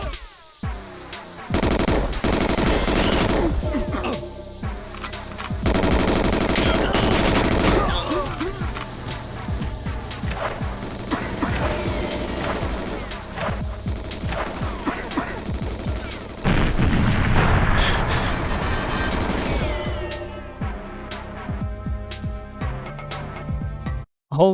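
Tanks blown up in the first-person shooter GoldenEye 007 on Xbox Live Arcade: repeated loud bursts of gunfire and explosions roll through a busy battle soundtrack, with a player's voice talking over much of it.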